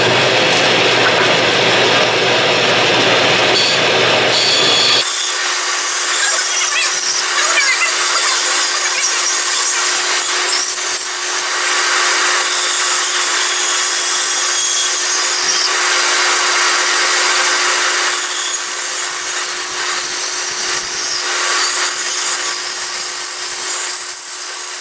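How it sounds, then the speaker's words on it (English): A bandsaw rips through wooden sideboards being built for a 1960 International Harvester B180 flatbed dump truck, a loud, continuous close-up cutting roar with a shift in tone after the first few seconds and no speech. "Next stop is the bandsaw."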